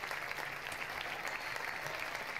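Faint, steady crowd applause from an audience in a video game, a continuous wash of distant clapping heard alone.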